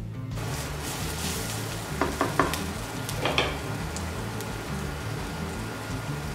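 Green chili and ginger frying in a pan as they are mixed, a continuous close crackling sizzle broken by a few sharp scraping clicks of the stirring spoon near the middle, with nobody talking.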